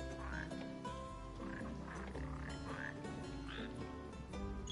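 Red frogs croaking in the Final Fantasy XV video game, a busy chorus of repeated throaty croaks and chirps pulsing steadily over a low ambient bed, close and continuous.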